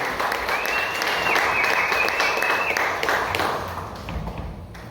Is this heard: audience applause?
yes